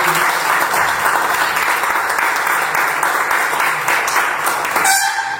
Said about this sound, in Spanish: es un aplauso para Miguel